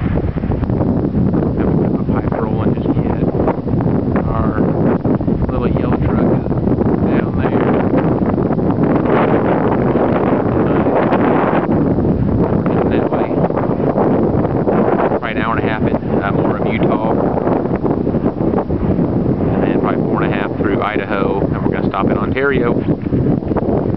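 Wind buffets the microphone at a hilltop rest stop lookout in Utah, a constant rough rushing noise that continues under a person talking throughout.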